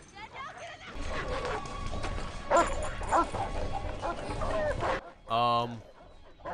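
Several dogs barking and whimpering in a horror film scene, close and loud, with sharp barks over a tense background and a whimpering cry at the end.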